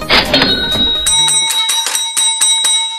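A bright bell rings repeatedly in quick, even strikes, its tone lingering between hits after a brief rustle at the start.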